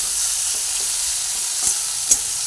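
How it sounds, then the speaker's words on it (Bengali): Shrimp fry in hot oil with salt and turmeric, giving a continuous, even sizzle with a couple of sharp stirring taps near the end. No one speaks. "দুটো দিয়ে চিংড়ি মাছটা যেন অল্প করে ভেজে নিচ্ছি"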